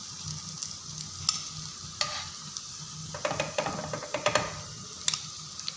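Bread samosas frying in a pan of oil, a steady soft sizzle with light clinks and scrapes from turning and lifting them out, alone without talk.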